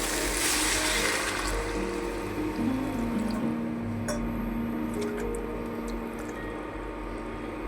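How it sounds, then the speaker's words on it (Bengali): Water poured into a hot pan of cauliflower stems with chili powder, a loud hissing sizzle that gradually settles into steady bubbling, close and continuous with no voices. "লঙ্কার গুঁড়োটা দিয়েছি বলে একটু জল দিয়ে দিচ্ছি, নাহলে লঙ্কার গুঁড়োটা পুড়ে যাবে।"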